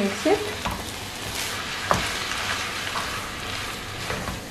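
Egg noodles tossed and fried in a pan with soy sauce, vinegar and red chilli sauce: a steady sizzle broken by scraping stirs and a couple of sharp clanks of the utensil against the pan.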